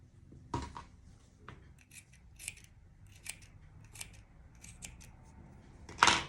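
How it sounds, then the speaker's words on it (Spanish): Scissors snip through excess shirt fabric with several short, crisp cuts spaced irregularly, close but soft, ending in a louder final snip, with no talking. "Y esto le vamos a cortar, si quedó mucho excedente de tela,"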